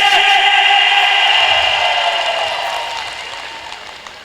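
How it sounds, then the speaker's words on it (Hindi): A large crowd in a festival pavilion applauds loudly, a dense, steady wash of clapping that fills the space and slowly fades over several seconds. "जोरदार तालियां, पूरा पंडाल गूंजना चाहिए।"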